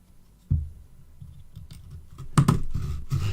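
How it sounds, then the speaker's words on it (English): A tool strikes the metal piece of a GoPro 9 housing up close, a crunchy cluster of irregular knocks and clicks after a quiet start, with louder hits near the end. "the crunchy sound, is actually me hitting this piece here, the metal piece"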